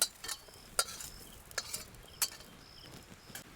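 Ivy gourd pieces stir-fried in a pan, with sharp clicks and scrapes of a spatula against the pan over a soft, quiet sizzle, close and intermittent.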